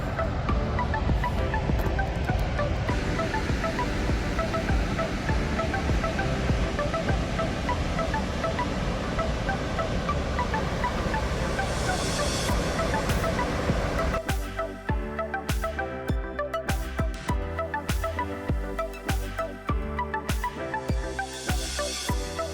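Faxi Waterfall in Iceland roars as a steady, loud broadband rush, with wind buffeting the microphone; partway through, heavy low thumping wind noise takes over.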